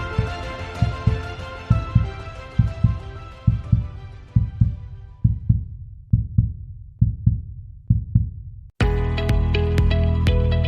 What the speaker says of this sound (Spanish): escucharás el latido del corazón de la tierra